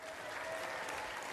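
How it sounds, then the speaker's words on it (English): Audience applause for Robot Wars roboteers in a TV studio arena, a steady dense wash of clapping filling the short span with no break. "Ladies and gentlemen, give them a round of applause."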